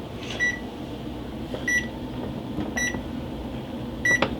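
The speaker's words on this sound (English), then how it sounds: "Does it usually make that sound? The microwave?" A household microwave oven hums steadily at close range while its beeps ring out four times at roughly even intervals over the running drone, with no voices.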